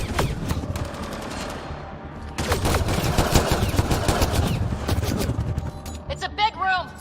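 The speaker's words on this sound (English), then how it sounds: "It's a gunfight in the gun battery then!" A gunfight in the video game Mass Effect: Andromeda, set inside a gun battery, rattles with sustained bursts of automatic fire and sharp shots, loud and continuous, with voices talking over the shooting.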